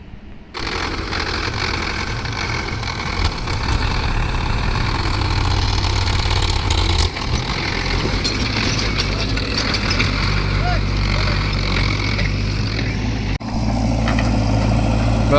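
A JCB backhoe loader engine runs loud and close at a steady idle with a constant low rumble, its tone shifting slightly partway through, while people talk over it.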